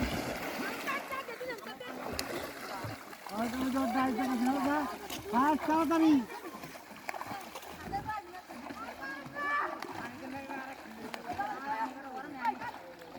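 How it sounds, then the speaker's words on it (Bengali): Schoolchildren splash and kick through the water of a village pond during a Bengali high school swimming competition, with steady rough splashing throughout and excited children's voices and crowd chatter mixed in close by. "সাঁতার শুরু"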